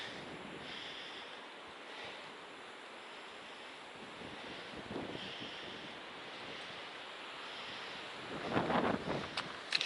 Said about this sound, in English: It's still a little breezy.